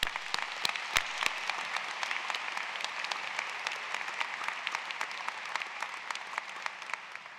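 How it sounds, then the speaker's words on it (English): Audience applause for the faculty and staff at a James River High School graduation, steady dense clapping from a large crowd, slightly distant, lasting throughout and tapering a little at the end. "Let's give them a round of applause"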